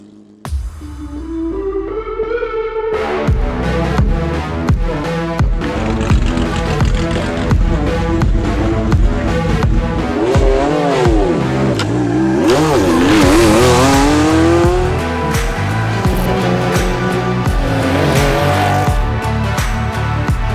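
A historic rally car on a Corsican shakedown stage accelerates hard through the gears, its engine rising and dropping in loud, close revs, with tyres squealing in rising bursts midway as it takes the bends at speed.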